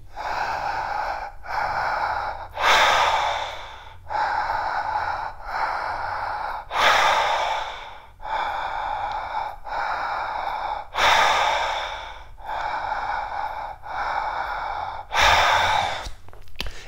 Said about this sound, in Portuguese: O cérebro vai querer mudar a respiração para o nariz e você mantém a respiração pela boca.